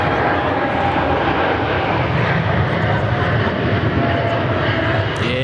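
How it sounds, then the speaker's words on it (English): Jet airliner on its takeoff roll and climb at Sydney Airport, a loud continuous broadband engine roar that fills the scene steadily from start to finish. "Look at that takeoff roll, nice and heavy, nice, long and lean."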